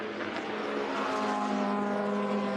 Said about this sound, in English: Sounds like the engine is running on idle.